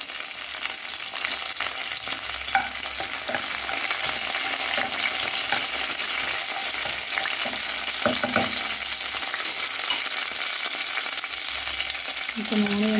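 Green chilies and mint frying in hot oil for a spicy chicken curry, giving a dense, continuous sizzle that stays loud and close the whole time, with occasional stirring scrapes and clinks and no talking.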